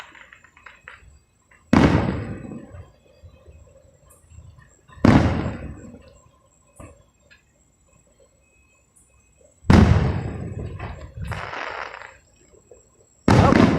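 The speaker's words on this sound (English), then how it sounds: "Fireworks. Lots of fireworks." Fireworks burst in four loud, separate booms spaced a few seconds apart, each decaying into crackling rumble, with quieter pops and distant thumps in the gaps between.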